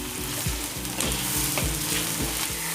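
Mutton liver sizzling in masala in a karahi, a steady loud fry with rhythmic stirring scrapes repeating about every half second, no voices.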